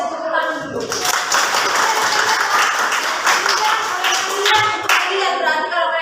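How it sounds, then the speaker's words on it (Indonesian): Students in a classroom clap on cue, a brisk round of hand claps that swells quickly and then tapers, with a teacher speaking over and after it. "Tepuk tangan dulu"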